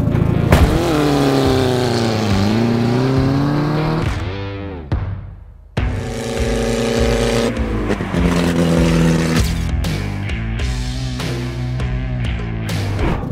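A car engine running on vodka as fuel idles, then revs and pulls away, its loud, close tone climbing and dropping through several rises with a brief dip in the middle.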